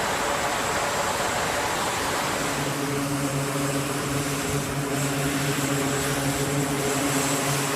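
An aircraft on an aircraft carrier flight deck roars with a loud, continuous engine drone and broad rushing noise, a steady tone emerging partway through with no talking.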